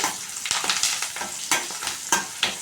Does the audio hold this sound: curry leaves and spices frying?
yes